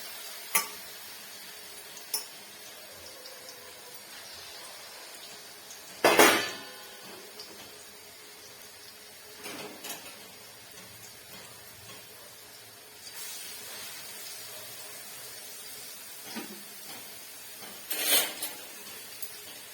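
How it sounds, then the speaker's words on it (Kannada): Beetroot and carrot heating in oil in a pan give a low, steady sizzle and hiss, with scattered sharp clinks and longer scraping bursts from stirring over about twenty seconds, with no voices. "ಎಣ್ಣೆ ಕಾಯೋದಕ್ಕೆ ಇಟ್ಟಿದ್ದೀನಿ ಹಾಗೆ ಬೀಟ್ರೋಟ್ ಬೀಟ್ರೋಟ್ ಕೂಡ ಹಾಕೋತಾ ಇದ್ದೀನಿ ಕ್ಯಾರೆಟ್ ಕೂಡ ಹಾಕೋತಾ ಇದ್ದೀನಿ"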